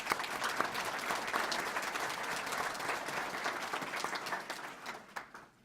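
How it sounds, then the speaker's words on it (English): Sustained applause from a crowd at a Flags of Honor ceremony honoring veterans, steady dense clapping throughout that thins and fades out in the final second. "Let's give them a round of applause."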